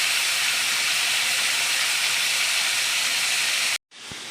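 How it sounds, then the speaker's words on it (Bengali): Ghagra fish fry in hot oil, giving a loud, steady, close hiss that fills the clip before cutting out briefly near the end and resuming. "মাছ কটা সব ভেজে নেব"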